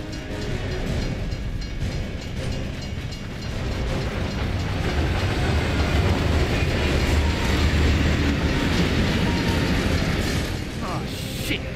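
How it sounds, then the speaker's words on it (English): Train rumbling past on the tracks in Gears of War 3, a loud continuous rolling roar with rattling wheel clatter, sustained throughout with game voices faintly over it. "it's a bloody train coming the other way"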